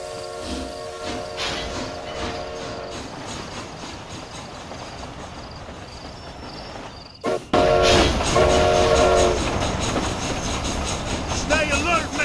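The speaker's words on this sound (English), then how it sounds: "This train headed for Mexico?" A steam-era train in the Red Dead Redemption game rolls along with a steady rumbling clatter, a long horn blast early on, then a sudden louder surge of wheels and machinery; no one speaks.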